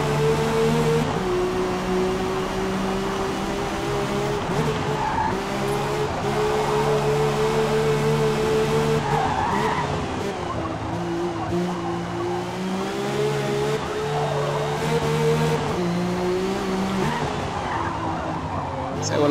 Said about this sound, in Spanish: Se bloquearon las ruedas allí.